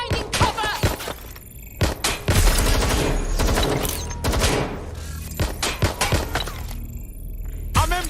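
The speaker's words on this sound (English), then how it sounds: "Target is firing! Down! Finding cover!" Gunfire from an enemy target in Watch Dogs: Legion, rapid sharp bursts and cracking impacts recurring across the scene, loud and close, mixed with shattering debris.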